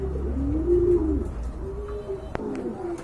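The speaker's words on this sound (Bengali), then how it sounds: "এখানে কিন্তু আরেক জোড়া কবুতর আছে, খুবই সুন্দর" A pair of English Trumpeter pigeons coos nearby: drawn-out, rising-and-falling throaty calls repeat over a low background hum, with a sharp click or tap partway through.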